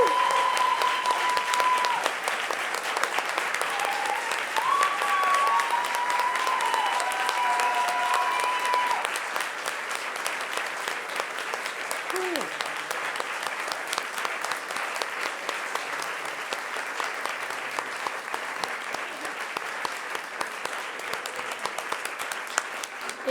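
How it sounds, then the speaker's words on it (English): A theatre audience gives a standing ovation to performers at the close of a full stage show: loud, dense, sustained applause with scattered cheers and whoops, filling the room and easing slightly partway through. "Can we give them a round of applause, everybody? Yes. Standing ovation."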